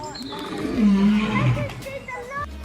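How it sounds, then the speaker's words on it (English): A lion gives a deep, rumbling roar that swells and fades over a couple of seconds, loud and close, with a voice talking over it. "The lion roar is probably the deepest noise an animal can make, and it could be heard 5 miles or 8 kilometers away."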